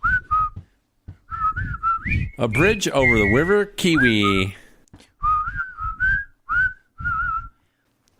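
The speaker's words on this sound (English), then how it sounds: "Give me the whistling in the background." A melodic whistled tune with rising and falling pitch plays between bursts of speech, fairly loud and close.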